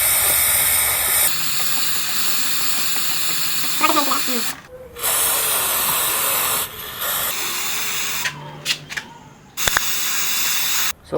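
Aerosol chain cleaner hisses in long, loud spray bursts onto a Royal Enfield Himalayan motorcycle chain, with brief pauses between sprays and a few faint clicks.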